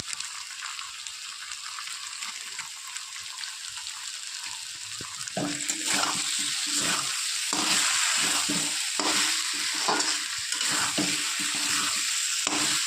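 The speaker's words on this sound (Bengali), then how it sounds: "ভালো করে মশলা আমি কষিয়ে নিয়েছি," Cumin and chili powder sautéing for a cauliflower curry, a steady close sizzle with a rhythmic scrape of stirring that grows louder partway through; no voice is heard.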